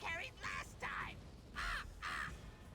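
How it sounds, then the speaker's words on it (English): Crows caw in The Elder Scrolls Online, five harsh, evenly spaced calls heard fairly close against a quiet background. "Black feather crows."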